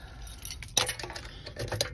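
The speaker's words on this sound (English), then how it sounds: "You look at all the keys on my key ring, it's ridiculous." Keys jangle on a crowded key ring, a sharp metallic clink near the middle followed by lighter rattles, close and fairly quiet.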